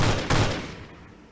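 Gunfire in The Pirate's Fate: Prisoner of Destiny, a pirate indie game, with a loud burst of shots followed by a second close blast that trails off into a decaying rumble.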